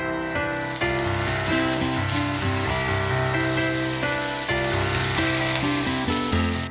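Curry leaves, black pepper, cumin and urad dal frying in sesame oil, a loud continuous sizzle with crackling pops and a few sharper bursts as leaves hit the hot oil, close and without talk.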